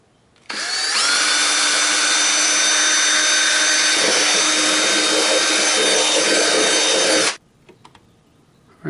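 A power drill runs loud and steady for several seconds, boring holes through plastic Stormtrooper armor with a high whine, then stops abruptly, leaving quiet shuffling.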